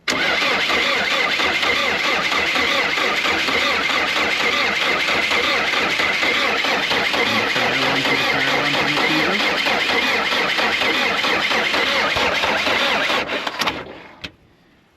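An old diesel engine with an open injector pipe, left unused for four years, cranks loudly and continuously on the starter for about thirteen seconds without catching, then the cranking stops abruptly.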